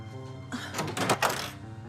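A door opening indoors in a TV drama scene: a brief clattering thunk and rattle lasting about a second over a steady background music bed.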